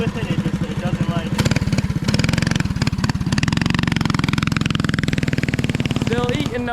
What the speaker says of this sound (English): just ripping around the quad a little bit in this little oval section